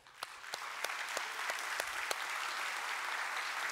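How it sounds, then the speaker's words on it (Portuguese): Applause fills a church for several seconds: a dense, steady wash of many hands clapping, with a few sharper claps standing out early on and no voices over it. "isso merece um aplauso para o Senhor"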